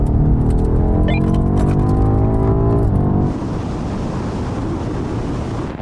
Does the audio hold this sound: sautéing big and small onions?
no